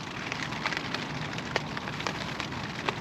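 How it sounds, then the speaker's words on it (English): Rain patters steadily on a Vango Banshee 300 tent, a dense close drumming with occasional louder individual drops. "And I thought the rain had stopped, but it's just started again"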